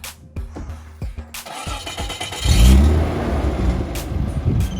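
A car engine turns over and starts, then runs with a loud rumbling exhaust that settles into a steady idle.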